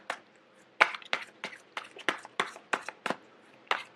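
Tarot cards shuffled by hand in quick, uneven flicks and taps, a dozen or so soft snapping bursts close by.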